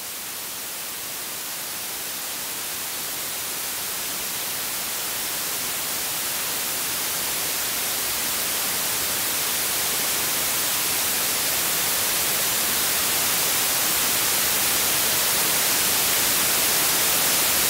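Steady hiss of white noise fed through a synthesizer VCA, gradually and smoothly growing louder over the whole stretch, with no other sounds.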